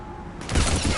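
A single loud, close gunshot bursts out midway in Mass Effect 3 amid a Reaper invasion, its blast filling the sound after a quieter hum and ringing on to the end.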